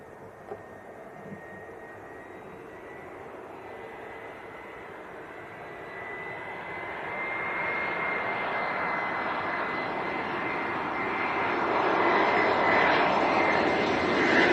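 An EasyJet Airbus A319 airliner arriving from Palma at Leeds Bradford Airport, its jet engines rising from a distant hum to a louder, building roar as it approaches.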